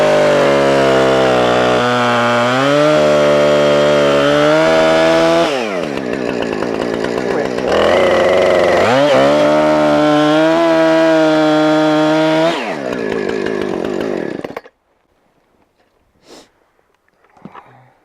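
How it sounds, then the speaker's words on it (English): A chainsaw roars close by for about fifteen seconds as it cuts through logs, its pitch dipping under load and climbing again between cuts, before cutting off into near silence with a few faint clunks. "get the chainsaw running, and we're going to cut this nice and simple."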